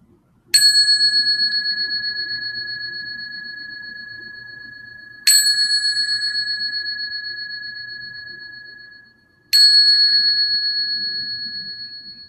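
A meditation bell closes a community meditation session with three clear strikes, each ringing out in a long, slowly fading bright tone. The strikes are spaced several seconds apart, close and alone with no voices.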